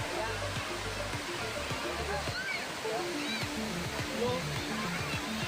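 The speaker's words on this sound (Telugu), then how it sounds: "ఇక ఇట్లా చూడండి జలపాతం లాగా ఎట్లా ఉందో" A waterfall at Ananthagiri Hills rushes with a steady, full roar of falling water while people bathe nearby, their distant voices and chatter mixing faintly into the constant flow.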